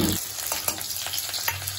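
Oil frying stuffed eggplant, slit and filled for a bharva aloo baingan dish, spits steadily in a pan, with a dense even sizzle and a few sharper pops, close and fairly loud throughout.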